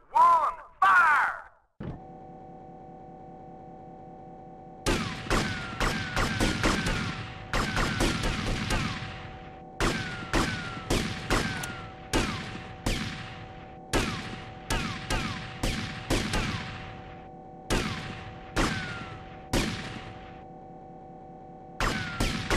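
Rifle volleys from a firing squad in the GTA Vice City video game: a short opening burst, then a long series of sharp, loud shots in ragged clusters, each fading with a ringing tail over a steady hum.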